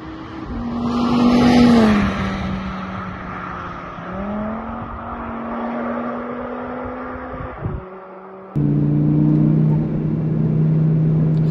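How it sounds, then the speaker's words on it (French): A 2019 Audi RS3 engine revs and pulls with a strong exhaust note, climbing and falling in pitch, then drops to a brief lull before a loud steady drone, with no talking. "t'accélères pas, tu mets un petit coup de gaz, elle repart, tu vois"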